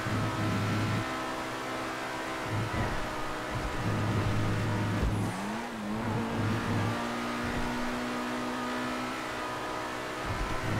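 A tuned turbocharged Lamborghini engine in the GTA RP video game revs with a steady, loud droning tone that swells and dips, pitch climbing briefly midway, with no talking over it.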